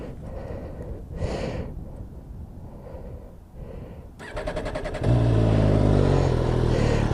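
An 800cc Dragster motorcycle on a test ride: quiet breathy passages and faint rumbling, then the engine picks up and settles into a loud, steady rasping drone for the last two seconds.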